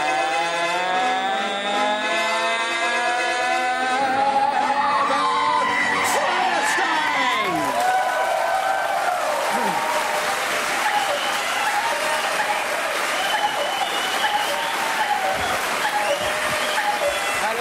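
A German TV studio audience applauds and cheers to welcome Nikolaus on a festive Christmas-themed show, with dense sustained clapping and scattered whoops filling the room over music, the whole crowd loud and continuous.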